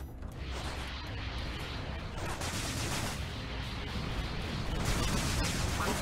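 Missile fire aimed at an Oka corvette in the space-combat game Everspace, a dense continuous barrage of launches and blasts holding loud and steady over a rumbling low end for several seconds.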